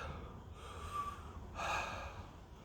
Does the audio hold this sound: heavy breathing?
yes